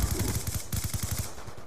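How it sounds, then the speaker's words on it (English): MSMC submachine gun in Call of Duty Black Ops 2 fires two rapid bursts of close, punchy automatic shots separated by a short pause. "I like that nice gun, the MSMC, man."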